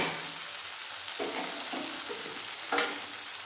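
Tomato masala fries in a pan for an egg and potato curry, a soft, quiet sizzle with a few brief stirring scrapes and clinks, close by and with no talking.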